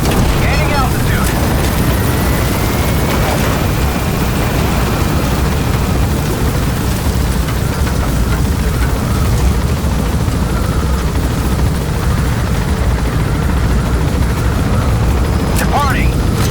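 A helicopter in the video game Metal Gear Solid V gaining altitude as a sandstorm approaches: a loud, steady rotor and engine roar that stays constant throughout, with brief radio-style voice lines over it.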